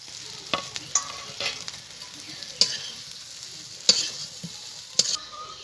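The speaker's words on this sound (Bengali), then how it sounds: "এবারে ভেজে রাখা এই কোফতাগুলো আমি দিয়ে দেবো।" Fried raw-banana koftas go into a pan of sizzling spice masala with a soft, steady frying hiss, broken by a few sharp clinks and scraping stirs of a spoon against the pan.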